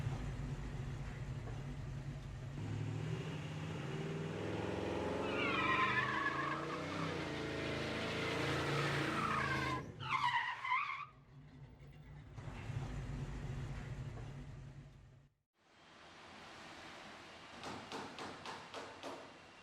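Car tire burnout with smoking, squealing tires: a long, loud screech over a roaring engine that breaks off, then shorter bursts of engine and tire noise, ending in light tapping.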